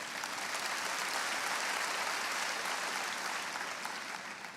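A church congregation applauds, a dense, steady wash of many hands clapping together that fills the room and fades slightly at the end, with no speech over it.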